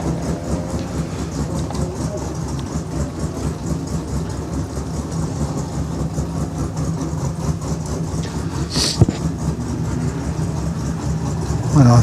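A Toyota Corona race car runs its engine at a hillclimb event, a steady mid-pitched drone held at a distance through the whole stretch, with a brief sharper burst near the end and no talking.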